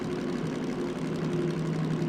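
A Derail Valley locomotive diesel engine drones low and steady as its revs drop on a climb through mountain terrain, a continuous rumbling hum with faint mechanical texture and no talk.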